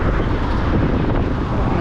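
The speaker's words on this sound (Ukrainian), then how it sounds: "вітер якраз зараз потрібен, він підсуше землю" Strong wind buffets the microphone with a loud, constant low roar and rumble, steady throughout with no pauses.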